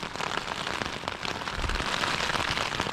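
Steady rain patters outside a tent on a cold night in the deep south of New Zealand, a dense, continuous hiss of drops with scattered louder taps close by.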